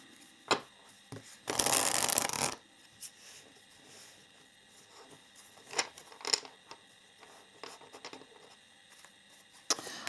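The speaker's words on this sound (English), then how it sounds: "I'm just going to shuffle it a little bit better." A deck of tarot cards being shuffled by hand: one dense riffling burst lasts about a second, then scattered soft card taps and slides follow in a quiet room.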